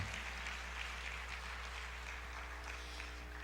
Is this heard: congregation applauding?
yes